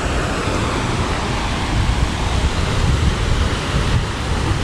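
Water from a water and light show fountain at a shopping mall in Kobe, Japan, rushes steadily as dense, broadband spray, close and fairly loud, with no talk over it.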